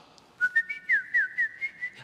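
A person whistles a short, bright melodic phrase of quick rising and falling notes, clear and close, with no talking over it.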